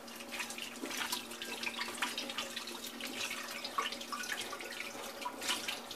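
A running tap pours steadily into a sink while hands are washed beneath it, a continuous close hiss of water with small splashes and no voices.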